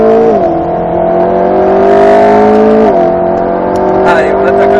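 An Alpine A110 S pulls hard around a race circuit, its engine note loud and steady, rising and dipping slightly as it climbs through the revs and shifts, with a faint voice over it.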